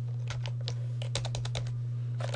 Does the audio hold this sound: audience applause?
no